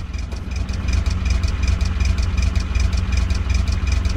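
A car engine idles in the video game The Long Drive, a steady low rumble with a faint periodic knock, close and continuous throughout with no voices.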